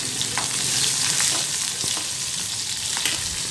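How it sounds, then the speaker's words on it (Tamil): Green chillies fry in hot oil in a home kitchen pan, giving a steady, close, crackling sizzle with scattered small pops and a faint stirring scrape throughout, with no voices. "பச்சை மிளகாய் வந்து நல்லா வதங்கட்டும்."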